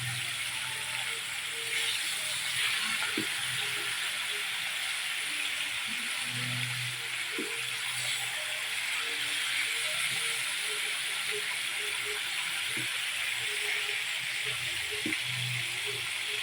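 Pork liver frying in a pan, a steady broadband hiss that stays even throughout, with faint low knocks underneath.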